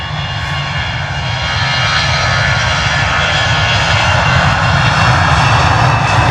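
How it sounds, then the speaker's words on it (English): An EasyJet Airbus A320 takes off, its jet engines a loud, broad roar that swells and holds steady as the aircraft powers down the runway. "EasyJet A320 finally off to Lisbon this morning after near enough a 3-hour delay"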